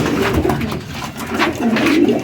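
Pigeons cooing nearby in a loft of breeding birds, several soft, rolling coos repeating in short bursts over a murmur of background noise.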